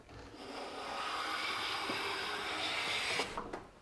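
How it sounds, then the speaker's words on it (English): A hand plane makes a pass along a wooden board, a close, smooth rasping shave that builds and holds for a few seconds before ending with a light knock as the stroke finishes. "Now let's just do a couple more passes. I want to see complete shavings on both sides."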